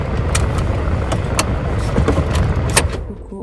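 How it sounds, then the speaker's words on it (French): Someone climbs out of a car, with a few sharp clicks and thumps of the door and handle over a low rumbling background, close and fairly loud, and no clear speech. "je sors de la voiture"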